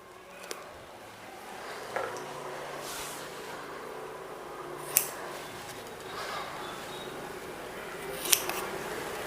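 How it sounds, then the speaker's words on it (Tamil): Scissors snip a piece of one-inch micropore tape in a quiet room, with a few sharp, brief cuts spaced several seconds apart over faint background hiss. "இதில் வந்துட்டு நம்ம ஒரு பீஸ் வந்து கட் பண்ணிக்கணும்."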